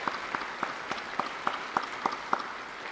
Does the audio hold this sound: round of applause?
yes